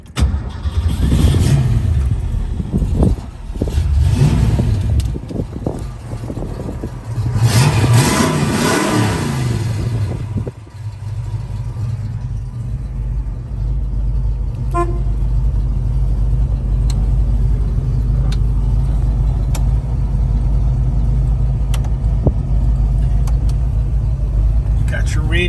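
A 1966 Ford Mustang engine cranks, catches and revs in loud bursts, then settles into a steady rumbling idle while someone talks over it.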